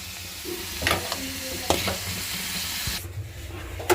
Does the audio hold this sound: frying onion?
yes